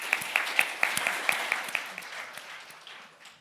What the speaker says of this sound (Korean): 박인숙 변호사님께 큰 박수 부탁드립니다.